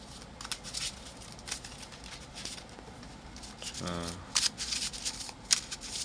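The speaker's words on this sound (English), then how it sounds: "let's just shuffle the deck up and see what we get" A Yu-Gi-Oh card deck is riffled and shuffled close by in quick repeated bursts of crisp flicking, with a short low hum in the middle.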